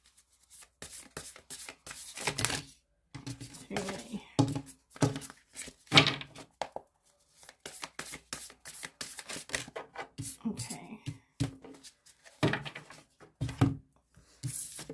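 Tarot cards being shuffled and laid out, a rapid series of close, crisp riffling flutters and soft slaps of card stock on a surface, coming in irregular bursts with brief pauses between.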